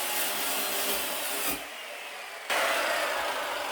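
A saw blade cuts through a plastic kayak crate with a harsh, continuous buzzing whine that drops out briefly mid-cut and then resumes louder, close and dominant with no talk.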